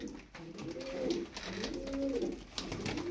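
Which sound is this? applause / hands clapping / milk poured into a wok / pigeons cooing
pigeons cooing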